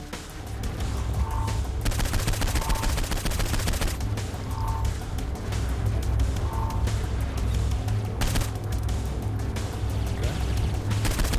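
Rapid gunfire from the bounce gun in Saints Row IV's How the Saints Saved Christmas DLC rattles steadily for the whole stretch, dense and loud, with a few brief tonal chirps poking through the barrage.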